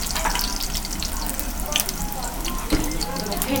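Leeks, shallot and garlic sizzle steadily and loudly in hot extra virgin olive oil in a pan, a dense continuous frying hiss with a brief stir-like clatter near the end.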